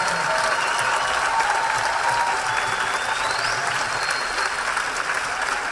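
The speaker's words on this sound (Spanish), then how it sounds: "Caro Bonillo, por favor, fuerte el aplauso." Loud, dense crowd applause at a women's assembly gathering after a tango performance, a continuous roar of many clapping hands filling the space without a break, with a faint whistle rising through it.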